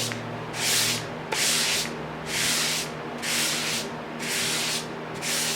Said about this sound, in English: Quick sand with 320 to get rid of the furriness.